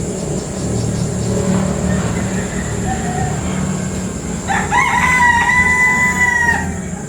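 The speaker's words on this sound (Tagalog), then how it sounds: "Nanggigising na ang mga manok." A rooster crows once, then another, over a constant rumble of traffic and low background noise.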